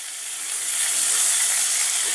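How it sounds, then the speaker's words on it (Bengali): Mixed vegetables with peas frying in a pan with salt for veg pulao, giving a steady, close sizzling hiss that swells slightly and holds without pause. "নুনটা দিয়েও সমস্ত সবজিটা আর একটু ভালো করে ভেজে নেব"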